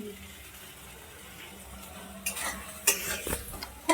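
Soybean chilli chicken cooking in a home kitchen pan, with quiet low background at first, then bursts of stirring, scraping and clinking of a utensil against the pan, sharp and close, growing louder toward the end.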